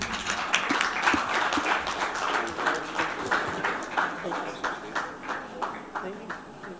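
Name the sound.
audience applause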